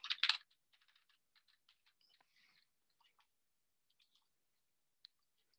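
Computer keyboard typing during a lecture: a brief, faint patter of light key clicks, with a louder burst at the start and scattered quieter taps after it.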